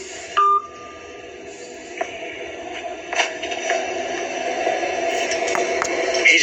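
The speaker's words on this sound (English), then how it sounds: "He just hung up the phone." A telephone line after a call is hung up: a short electronic beep near the start, then a steady humming line tone with faint clicks, moderately loud.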